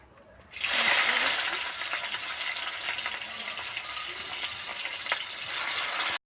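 Whole cumin seeds and bay leaves frying in hot oil in a kadai, a loud, steady crackling sizzle that bursts in sharply and holds dense and close throughout, without talk over it.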